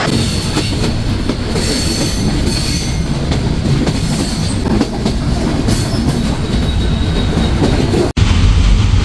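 Silkcity Express passenger train rolling along the rails between stations, a steady loud rumble of wheels and carriage with faint clatter and squeal throughout, a brief dropout near the end, no voices.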